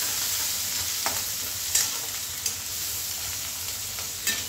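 Garlic and peanuts fry in a hot pan alongside onion, a steady sizzle with a few sharp scrapes as the mixture is stirred, close and without talk.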